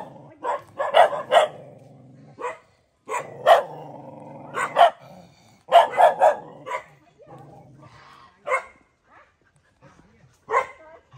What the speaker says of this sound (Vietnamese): Gào chó hả?